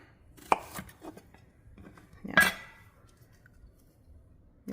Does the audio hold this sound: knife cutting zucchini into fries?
yes